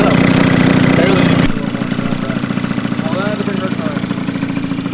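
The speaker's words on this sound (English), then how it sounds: "The PG pipe sounds pretty good though." A 150cc stunt scooter with a PG exhaust pipe runs loud and steady at first, then drops to a lower, pulsing idle after about a second and a half, with a voice talking over it.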